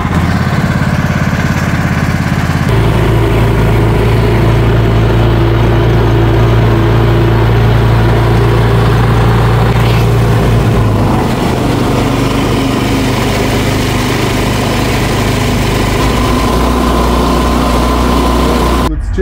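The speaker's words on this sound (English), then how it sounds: "You don't need a radiator with the Predator engine." A Predator 420 engine swapped into a Kawasaki Mule UTV runs loudly and steadily up close, a constant small-engine drone with a shift in pitch partway through, briefly under faint speech.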